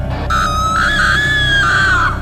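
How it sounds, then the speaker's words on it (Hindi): A woman lets out a single sustained, piercing scream of fright as a horror-story sound effect, loud and close, rising and holding shrill before breaking off, over a low background drone. "ये सुनकर मीरा की चीख निकल पड़ी।"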